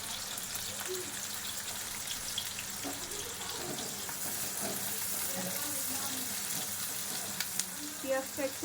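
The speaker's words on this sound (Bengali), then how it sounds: "এবার আমি পেঁয়াজটা ভেজে নিচ্ছি।" Onion frying in oil in a pan after chicken was fried in it, a constant close sizzle with soft scraping and a few sharper clinks near the end, no talking over it.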